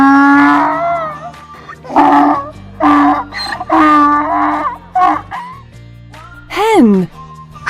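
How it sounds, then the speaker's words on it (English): A donkey brays in several loud, drawn-out, wheezing calls with short breaks between them, close and alone. "Donkey."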